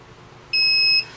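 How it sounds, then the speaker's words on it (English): A single electronic beep from a heat press machine, steady and high-pitched, sounds for about half a second against a quiet background. "the machine is gonna start beeping"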